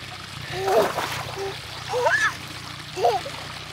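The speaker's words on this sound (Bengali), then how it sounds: "এদিক দিয়ে হলো পানি বাইরে যেতেছে অনেকটা সেই ইনফিনিটি পুলের লুক হয়েছে" Water spills steadily over the edge of a small backyard infinity-style swimming pool, a soft continuous trickle and splash beneath a child's and an adult's voices.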